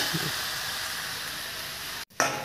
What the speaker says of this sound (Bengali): আলুটা হলুদ দিয়ে এটা ভেজে নিতে হবে